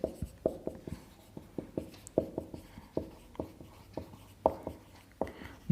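Pen scratching out a maths solution on paper, a steady run of short close strokes and taps, soft and near with no voices.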